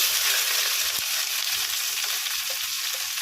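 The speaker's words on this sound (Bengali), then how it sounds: "পেঁয়াজটা কুচি করে রেখেছিলাম পেঁয়াজটা দিয়ে দিলাম" Chopped onion dropped into hot oil with cloves, cardamom, dried red chillies, cumin seeds and bay leaves, giving a loud, dense, continuous sizzle close up, steady throughout with faint utensil taps.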